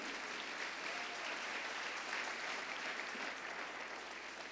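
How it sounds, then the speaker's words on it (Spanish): A church congregation claps at a Spanish-language sermon, a steady dense wash of applause sustained evenly throughout at moderate distance. "Dele palmas al Señor de la gloria"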